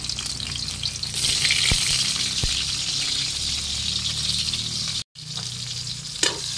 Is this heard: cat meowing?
no